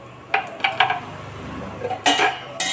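Metal pot lid and cookware clatter in a few sharp clinks and one longer rattling clank as a lid goes onto a pot of simmering semiya kichadi with tomato, close and alone.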